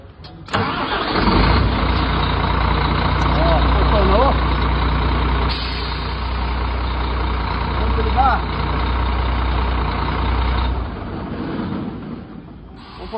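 A Scania truck's diesel engine cranks and catches, then settles into a steady, loud rumbling idle that runs for several seconds before stopping, with people talking faintly over it.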